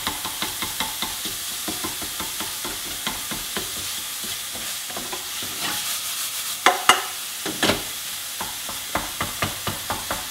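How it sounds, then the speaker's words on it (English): Beef mince browns in a hot pan, sizzling steadily while a whisk scrapes and taps through it in a regular rhythm of close strokes, with a few louder clatters midway and no talking. "when you're trying to mix up your beef, is a whisk as well"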